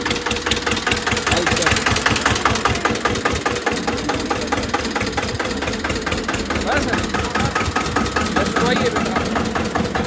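A 24-horsepower diesel tractor engine chugs steadily with a fast, knocking rhythm, loud and close, as someone speaks over the noise.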